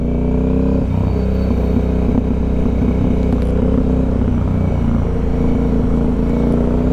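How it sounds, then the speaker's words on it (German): Motorcycle riding in road traffic, a continuous loud engine drone with steady low rumble and wind noise, no pauses, unchanging throughout without talk. "Hinter mir ist ein Motorrad."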